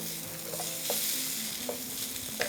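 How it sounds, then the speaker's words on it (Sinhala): Noodles being stirred by hand to work in yellow food colouring, a soft continuous mixing swish with a few brief clicks of utensil against bowl, close and steady. "ඊට පස්සේ මේ ටික වෙනම මෙහෙම කලවම් කරනවා."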